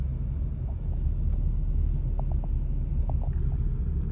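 A car rumbles along in snowy, sub-zero winter weather, a low steady engine and road drone with faint knocks and rattles, close and continuous.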